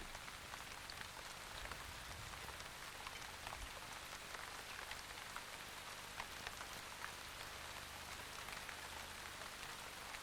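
Steady rain falling in the African bush at the start of the rainy season, a dense continuous patter of drops on the ground and vegetation with no voices over it.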